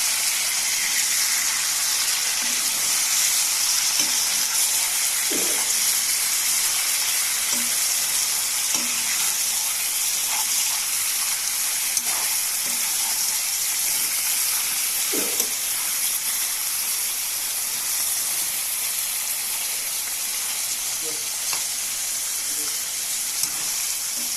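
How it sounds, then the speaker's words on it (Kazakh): About one kilogram of meat sizzling in hot oil in a pan, a loud, steady close-up crackle and hiss, with occasional clinks of stirring and no speech. "Осылай етіміз қуырылады."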